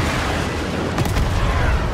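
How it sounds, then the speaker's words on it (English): A booming explosion in the Star Wars Outlaws video game, landing midway through dense, loud game sound effects and rumbling low noise. "the explosions,"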